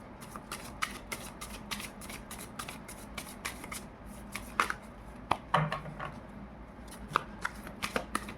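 Tarot cards are shuffled and pulled from the deck in steady, close riffling and flicking, with sharper snaps as individual cards come out, and no talking.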